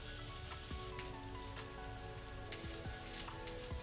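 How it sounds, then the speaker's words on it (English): Extra virgin olive oil sizzles steadily in a heated pan over a medium flame, a dense continuous crackle with occasional sharper pops, close and fairly quiet with no talking. "heat the pan with extra virgin olive oil"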